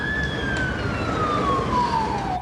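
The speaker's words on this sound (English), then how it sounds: "How long ago did we hear that fire engine?" A fire engine siren wails in a single long descending tone over a steady traffic rumble, fairly loud and close, with no voices.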